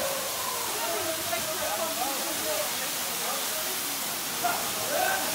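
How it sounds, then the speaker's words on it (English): A waterfall in St. Lucia roars steadily, a broad continuous rush of falling water filling the scene, with faint voices barely audible beneath it. "Beautiful waterfalls."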